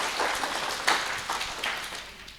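A crowd at an outdoor community gathering on Mount Ungaran breaks into scattered applause, loose claps swelling into a short burst near the middle and then thinning out, heard at a moderate distance.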